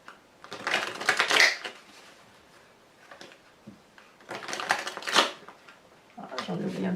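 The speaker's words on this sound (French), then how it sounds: "carte complémentaire que l'on va poser sur cette carte socle." Tarot cards shuffled and slid, one card drawn and laid down on top of another, making close papery rustles and flicks in two main bursts with a softer one at the end.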